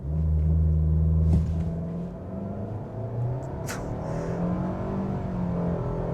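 A 2025 Mitsubishi Outlander SEL with a CVT launches hard from a standstill in its sport mode, the engine droning loud and steady as the transmission mimics shifts with subtle dips in pitch, no talking.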